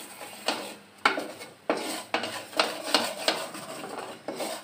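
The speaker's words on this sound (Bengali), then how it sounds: "যতক্ষণ ব্রাউন কালার না হবে ততক্ষণ এরকম হাতে হাতে একটু নাড়তে হবে" Puffed rice being stirred by hand in a pan over medium heat, making a dry, rustling scrape that repeats in steady strokes roughly every half second, close and moderately loud with no talking.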